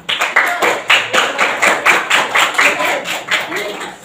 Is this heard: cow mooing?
no